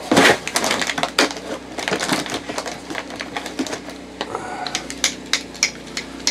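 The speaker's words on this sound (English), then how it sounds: "hydraulic wire crimping tool" On a sailboat refit, a hydraulic wire crimping tool works on battery cable with a close, busy run of sharp clicks, ratcheting knocks and crunching pumps in uneven rhythm.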